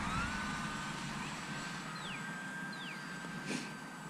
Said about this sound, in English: Also apologize for the road noise.